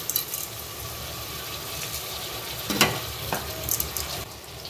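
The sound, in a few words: stirring rice and lentils into the pot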